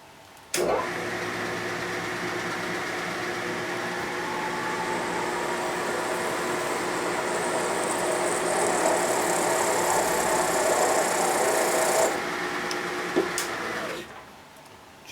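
A steel plate being drilled on a machine for a 1958 Ford F100 A-frame: a steady, loud mechanical whine and hum that holds for about eleven seconds, then stops abruptly, followed by a few brief clicks.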